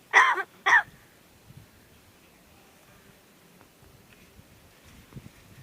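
A talking crow at a village house gives two short, harsh cough-like bursts close by at the start, followed by quiet rustling background and a few faint thumps.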